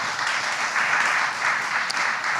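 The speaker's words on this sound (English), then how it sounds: "So please give them a round of applause too." An audience at a community meeting applauds, a loud, dense and even wash of clapping lasting the whole stretch with no talking over it.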